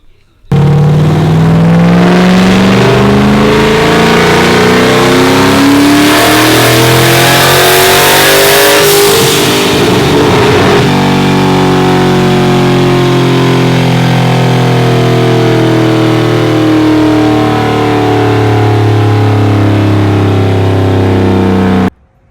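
A turbocharged Coyote V8 Mustang with an 80mm turbo, pulling hard on a dyno. The engine roars loudly and continuously, climbing in pitch as it revs up, then holds a sustained high-rpm drone until it cuts off abruptly.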